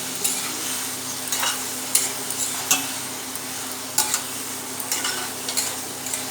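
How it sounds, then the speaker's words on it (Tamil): A spoon stirs meal maker (soya chunks) frying in a pan, with a steady sizzle underneath and repeated sharp scrapes and clinks against the metal at an irregular rhythm, close and clear. "இதை வந்து நம்ம கலக்குவோம்"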